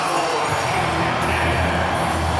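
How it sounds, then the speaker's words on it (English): Dense roar of a stadium crowd at an Arkansas Razorbacks college football home game against Ole Miss on a cold night, loud and sustained, a continuous wash of voices with no breaks. "Impressed by the crowd tonight? It's loud, man."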